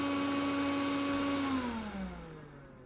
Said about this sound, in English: now we're at 4800 RPM, and then it goes all the way up to 5000, nearly 5500 RPM for this fan